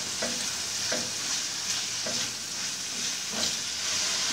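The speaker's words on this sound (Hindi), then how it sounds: "अब इसके अंदर चिकन का कीमा ऐड करेंगे और इसको अच्छी तरह पकाएंगे।" Chicken mince sizzles with onions in a pan, with a steady frying hiss broken by regular scrapes and knocks of a spoon stirring about once a second.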